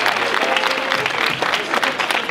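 Loud crowd applause at a freestyle rap battle tournament final, close, energetic clapping with uneven bursts throughout.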